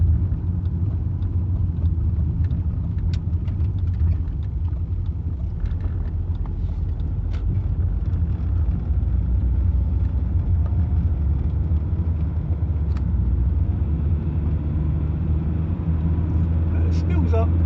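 A Rover 75 Connoisseur SE CDTi, a heavy saloon with a 2 litre diesel, drives at a steady pace, its low engine and road rumble filling the cabin without a break from start to finish.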